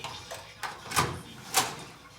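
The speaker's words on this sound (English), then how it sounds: "Door extra heavy." A heavy room door swings and closes, giving two dull thuds about half a second apart over a quiet indoor background.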